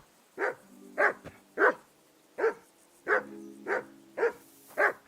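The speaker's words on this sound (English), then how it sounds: "Henry! Call that dog to heel!" Dog barking in a video game: eight sharp, loud barks in an uneven rhythm, with a low droning tone running under some of them.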